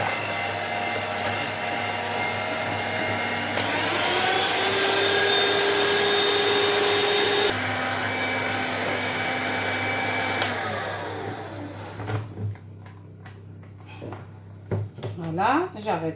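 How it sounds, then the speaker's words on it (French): An electric hand mixer beats coconut chocolate cake batter, whining steadily and shifting pitch as its speed changes twice, then stopping, followed by a few light clatters. "C'est pas une obligation d'avoir un batteur comme ça."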